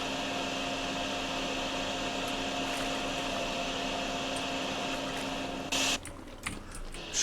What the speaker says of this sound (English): Let's see how fast it goes with the vacuum.